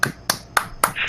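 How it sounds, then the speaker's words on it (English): Hand clapping: four sharp, evenly spaced claps at close range, each a quick bright smack, with a faint tonal sound overlapping near the end. "I can clap louder."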